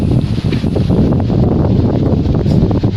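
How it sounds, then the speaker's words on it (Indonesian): Wind gusts steadily across an outdoor site at night, a continuous low roaring rush buffeting the microphone for the whole stretch with no talking. "Sekarang mulai lagi nih angin."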